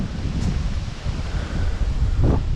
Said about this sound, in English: It's getting a little windy and a little chilly.